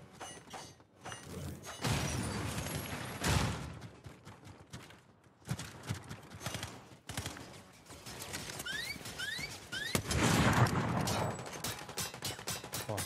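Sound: gunshots in a video game

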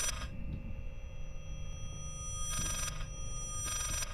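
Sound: ringtone playing backwards in Layers of Fear video game

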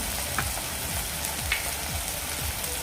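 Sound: Kashmiri red chili and turmeric sizzling in pan

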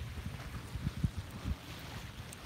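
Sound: wind

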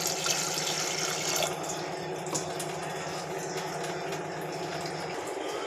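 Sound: water being poured into lentils

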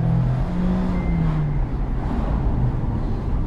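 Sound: Mazda MX-5 2.0 litre engine thrum while driving

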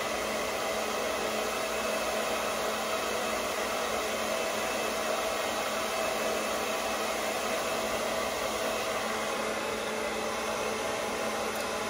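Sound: hair dryer blowing

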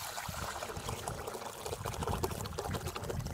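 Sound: pouring tamarind water into rasam

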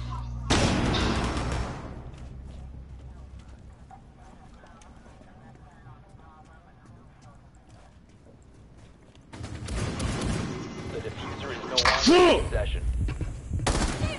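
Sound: gunfire in a PS4 shooter video game

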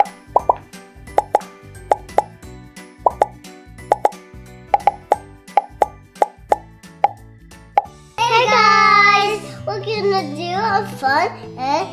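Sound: raisins in soda, bubbles popping

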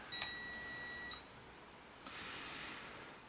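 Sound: beep sound effect

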